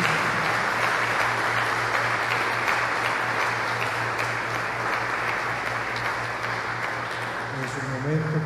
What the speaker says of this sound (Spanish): Vamos a darle nuevamente un fuerte aplauso